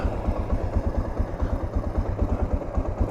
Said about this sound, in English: Not sure about that idle.